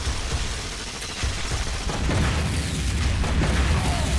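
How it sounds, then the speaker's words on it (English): The Punisher's Explosive Rocket detonates in the Marvel Heroes game, a loud blast and crackling rumble layered over dense, continuous combat noise. "You just saw him use Explosive Rocket,"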